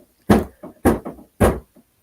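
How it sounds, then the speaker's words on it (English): Knocking on a door at home: three heavy thumps with softer follow-up taps in between, close and fairly loud, with no talking. "now he's just banging on my door"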